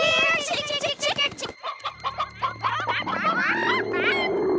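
Cartoon chicken clucking in a lively animated scene, a burst of busy clucks and squawks up front, then more clucking mixed with voices and background music.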